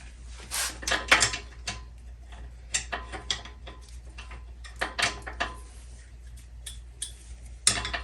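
Wrench working the rear wheel axle nuts on a one-speed beach cruiser bike, a series of close metallic clicks and clanks in irregular bursts with quiet gaps between them.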